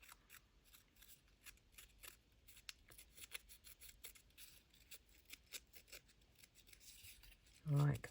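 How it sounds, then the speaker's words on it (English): Quiet, close snipping and rasping of scissors cutting through burlap, a rapid series of short crisp cuts with a brief louder thump at the end. "run my scissors around him"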